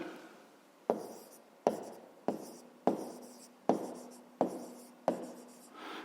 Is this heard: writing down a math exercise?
yes